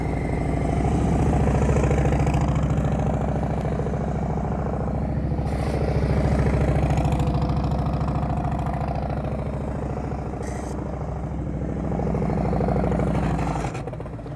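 A motorcycle engine idles and burbles steadily at close range throughout slow-speed riding practice in Mississippi, with slight swells in throttle and no voices.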